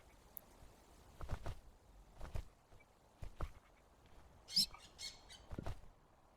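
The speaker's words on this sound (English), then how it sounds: "Maybe just a regular bird call." Regular bird calls on an island, a few short chirps and squawks heard at a distance against quiet outdoor ambience, with soft rustling footsteps between them.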